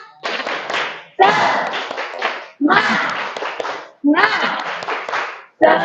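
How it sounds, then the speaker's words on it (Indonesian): A class of schoolchildren performs the rhythmic 'tepuk semangat' clapping cheer in a classroom, four loud patterned bursts of claps separated by short pauses, with young voices chanting along. "Tepuk semangat."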